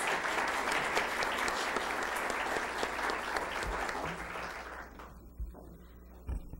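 An audience at a history lecture in a Monterrey museum gives a strong round of applause to welcome speaker Josefina Vázquez. The clapping stays dense and steady, then thins out and fades into scattered final claps.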